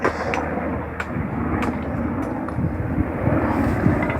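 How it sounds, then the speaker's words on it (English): A helicopter passes overhead at an outdoor dry stone walling training site, making a steady, broad low rumble that holds for the whole stretch without fading. "there's a helicopter going over, so we might just stop for a minute"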